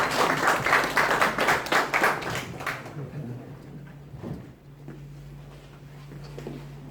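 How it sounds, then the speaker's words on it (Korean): A seminar audience on aggregate plant technology applauds a speaker, a burst of many hands clapping for about three seconds before fading into a quiet room with a low hum. "여러분 큰 박수로 부탁드리도록 하겠습니다."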